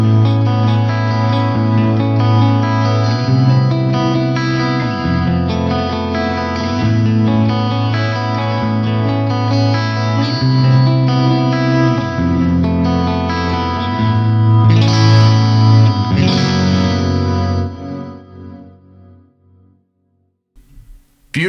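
Very big reverb with the input gain pushed high, followed by a slow chorus, washing over a sustained instrument chord that shifts several times before the wide, shimmering tail fades out alone.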